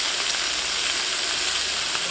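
Steak edges sear in a hot pan with a loud, steady, close-up sizzle that holds unbroken for about two seconds.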